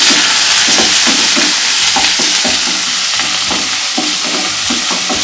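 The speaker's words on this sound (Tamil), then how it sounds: "கொஞ்சம் கருவேப்பிலை, ஒரு பச்சை மிளகாய், வெங்காயம், இதை சேர்த்துட்டு நல்லா வதக்க வேண்டிய இதாக" Chana dal, curry leaves, green chili and onion sautéing in a pan: a loud, continuous sizzle broken by regular scraping stirs of a spatula, close up with no talking.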